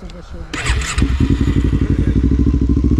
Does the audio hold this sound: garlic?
no